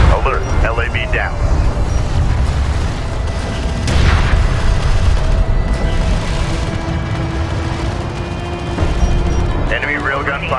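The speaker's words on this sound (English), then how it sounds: "Enemy railgun firing on friendly." An enemy railgun fires in the video game Homeworld: Deserts of Kharak, giving a heavy boom within a constant rumbling battle din, while radio-style voices talk throughout.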